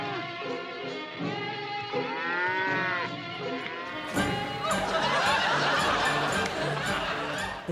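Highland cattle lowing in a film scene, long drawn-out moos rising and falling over a busy background, with a denser, noisier second half where laughter seems to mix in.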